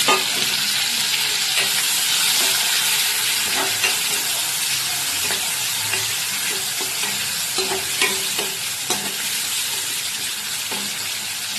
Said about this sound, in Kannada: ಫ್ರೈ ಆಯಿತು ಇವಾಗ ಇಟ್ಕೊಂಡಿರೋ ಟೊಮೆಟೊ ಹಾಕ್ತಾ ಇದ್ದೀನಿ